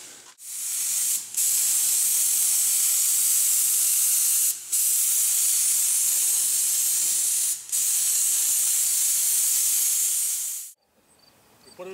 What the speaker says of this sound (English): Now we're shooting the whole structure with high heat black enamel flat black paint.